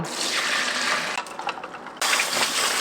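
Running water pours steadily to rinse boiled wheat, a loud splashing gush that breaks off briefly and then resumes at full strength, with no voices.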